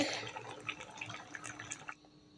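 Cooked prawn and pumpkin curry is poured out in a close, wet, splashing dribble that runs steadily for about two seconds and then stops.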